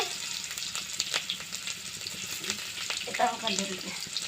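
Cumin seeds, bay leaves and onion sizzle and crackle in hot oil in a village kitchen, a soft steady frying hiss with faint stirring clinks, fairly quiet.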